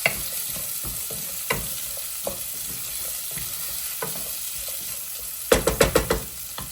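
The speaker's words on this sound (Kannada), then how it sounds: "ಸೊ ಸ್ವಲ್ಪ ಫ್ರೈ ಆಗಲಿ." Tomato and garlic frying in a pan on a home stove, with a steady sizzle and crackle under repeated stirring taps, ending in a burst of sharper clatters near the close.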